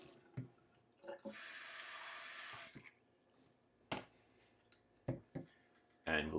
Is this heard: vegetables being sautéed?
no